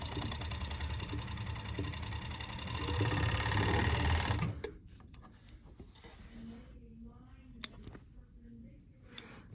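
A serger sewing machine runs fast and loud, serging two seam allowances together for about four and a half seconds, then stops, leaving quiet handling noises and a couple of sharp clicks.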